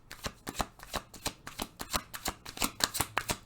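Tarot cards being shuffled produce a quick run of crisp riffling slaps and flutters, about a dozen close, even strokes in steady rhythm, quiet and without talk.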